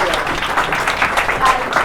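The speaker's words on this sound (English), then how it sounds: "Let's give another round of applause." Audience applause at a lecture, a steady wash of clapping from a crowd lasting a couple of seconds, with voices mixed in.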